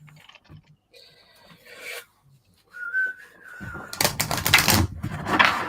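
A brief whistle is followed by a rapid, rasping flutter of cards being shuffled, loud and close, with quieter rustling earlier.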